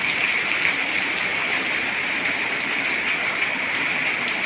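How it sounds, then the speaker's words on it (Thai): Steady, dense rain hissing continuously, a broad wash of water noise with no breaks and no voices. "ตกฝนตกฝนตก"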